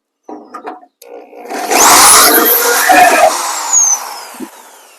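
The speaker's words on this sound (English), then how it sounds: "Okay, the downspout has successfully been drilled." A power drill bores into a metal gutter downspout, a close, loud grinding whine that rises and holds for a couple of seconds before tapering off, with a few brief clunks beforehand.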